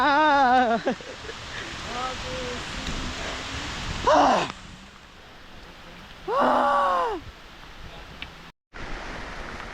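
Heavy rain pours on a waterfall trek as a steady broadband rush, with voices singing and calling over it in bursts.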